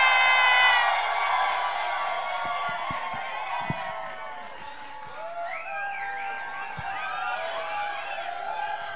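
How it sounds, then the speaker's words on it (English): A packed Chicago crowd at a Drag Race All Stars viewing party at Roscoe's cheers, whoops and screams continuously, loud at first and then settling into a sustained roar with voices rising above it. "What a beautiful crowd and what big noise."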